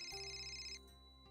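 A mobile phone rings with a bright electronic ringtone, sustained tones that then drop away and restart faintly. The ringing is quiet, with no talk over it.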